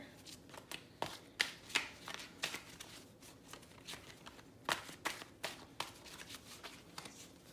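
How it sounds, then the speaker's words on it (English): Tarot cards are shuffled and drawn by hand, giving a run of crisp riffling and slapping card sounds in quick irregular bursts, close and fairly quiet. "See if I can't pull out another card from here."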